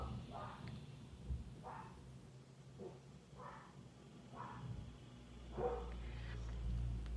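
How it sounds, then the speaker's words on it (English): A dog barks several times somewhere in the house, muffled and moderately distant, in short separated bursts over a quiet background. "dog's barking"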